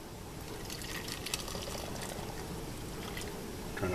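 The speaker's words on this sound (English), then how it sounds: "Try not to spill the brine like I just did." Pickle brine splashes and trickles steadily as it is poured into a jar and spills over, a soft, close, continuous liquid sound with a few brighter splashes and no talking.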